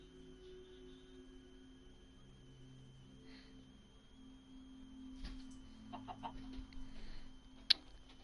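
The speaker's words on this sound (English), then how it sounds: "I hear you walking around, Mr. Chicken." A Minecraft chicken clucks faintly in a few short bursts near the end, over steady electronic background tones.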